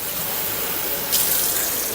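Water runs steadily from a kitchen tap in a home kitchen, a continuous broadband hiss that grows slightly louder and brighter partway through as the flow increases, with no talking.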